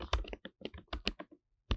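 Quick bursts of keystrokes on a computer keyboard, about a dozen clicks in an uneven run with a short pause before a final tap, close and clear with no speech.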